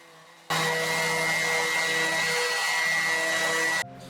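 A power sander works epoxy filler on a wooden dresser, a loud, steady whirring drone starting abruptly and running unbroken for over three seconds before cutting off, close and alone.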